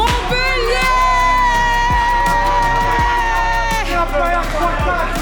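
Student crowd at a campus competition awards ceremony cheering and shouting for winners, loud continuous whoops and chanting voices over a steady rhythmic beat.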